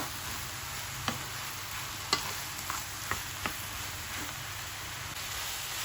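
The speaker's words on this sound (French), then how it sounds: "Et je vais bien mélanger et laisser cuire tranquillement." Aubergine pieces stirred while they cook in a pan, giving a constant low sizzle and hiss with a handful of sharp spatula clicks and scrapes spaced about a second apart, close by and with no voices.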